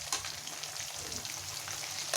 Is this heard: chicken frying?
yes